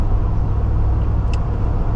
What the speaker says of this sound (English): I mean, the truck sounds great. It's an LS3.